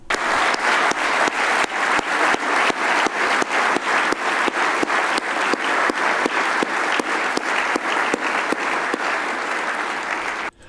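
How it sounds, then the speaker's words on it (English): Applause from a crowd at an atheism debate: a dense, steady wash of clapping with rhythmic dips each time one person claps close to the microphone, sustained loudly throughout before ending abruptly. "I think I recorded that off of some atheism debate because there was somebody close to the microphone, and every time they clapped, all the applause dipped"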